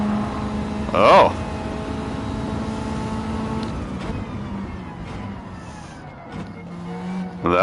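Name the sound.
car braking hard in a racing video game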